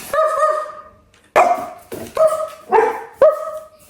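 A tiny puppy barks in a series of five sharp, high yaps, close and loud, spaced unevenly with brief pauses between them.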